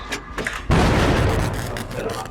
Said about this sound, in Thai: ระเบิดไปแล้ว ไปแล้ว